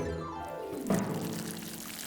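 Water pours from a watering can onto seeds in a cartoon garden scene, a short steady splash and trickle swelling briefly near the middle, with no talk over it.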